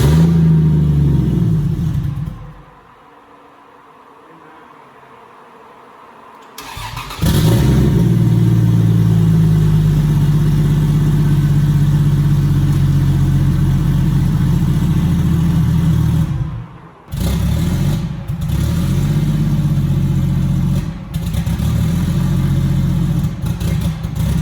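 A Toyota Supra engine fitted with a diesel turbo cranks and fires into a loud, rough idle, briefly dies, then starts again and runs with uneven revving, close by and without speech.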